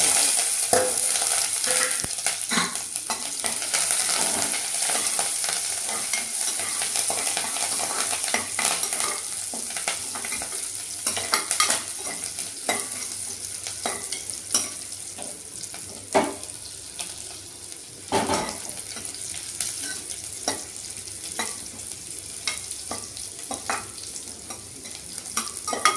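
Cloves, cinnamon and curry leaves sizzle and crackle steadily in hot oil in a pan, with occasional clicks from stirring, close and continuous and without voices.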